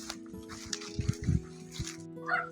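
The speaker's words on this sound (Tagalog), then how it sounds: "Pasensya na po kayo sa ingay ng aso kasi marami pang aso dito sa tiyahin ko po" Several short dog barks, one after another, over a steady background hum.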